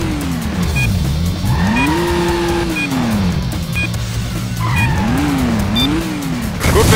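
In the PS2 stunt-driving game Stuntman, a car brakes hard with loud, repeated tyre squeals that rise and fall in pitch over a constant engine drone, with no talking.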